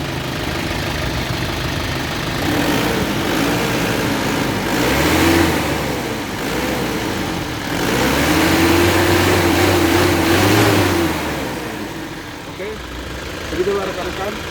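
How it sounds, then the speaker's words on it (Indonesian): An Isuzu Panther engine is revved repeatedly by hand on the throttle cable during a DIY engine purge, swelling from idle into several loud rising surges over a steady mechanical drone, recorded up close. "sambil tangan kiri kita memutar gas, kita tarik kabel gas sambil kita memompa seperti ini"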